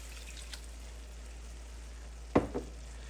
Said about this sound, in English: I now want to add my Marsala